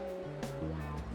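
Ocean surf washing steadily over soft background music on the in-game radio of Two Point Campus, a continuous hiss with gentle swells throughout.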